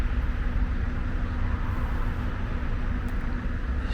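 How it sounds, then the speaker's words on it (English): A parked vehicle idles about ten meters away at night on an urban street, a steady low engine rumble with a faint constant hum, unbroken and moderately loud. "It's just sitting with the engine running."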